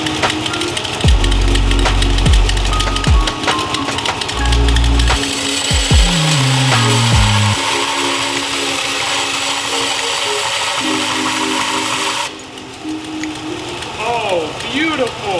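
A power grinder sharpens a tungsten welding electrode in a shop, a loud steady whine with strong harmonic tones that runs the whole time, broken by a few brief low thumps near the start, then a drop in level near the end.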